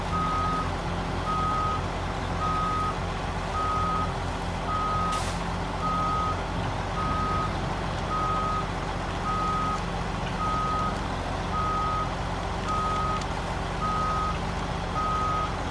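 A Mack Defense M917 truck backs up, its reversing alarm sounding a steady, evenly spaced series of beeps over a constant loud diesel engine rumble for the whole stretch.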